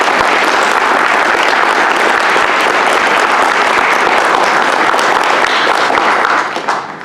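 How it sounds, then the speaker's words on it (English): Steady, dense applause from a seated audience at a legends award ceremony fills the space loudly and evenly, then begins to thin out and fade near the end. "Let's have a round of applause for Miss Patti Robbins."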